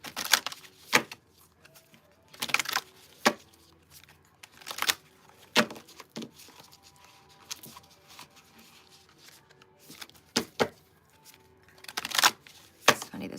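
A moonology oracle card deck being shuffled, giving repeated bursts of card riffling and slapping at close range, separated by quieter handling pauses, with no talking.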